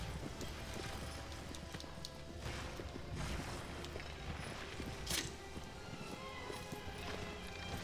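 Horse hooves clip-clop in a continuous rhythm in the video game Shadow of the Colossus, fairly faint beneath a constant wash of ambient game noise.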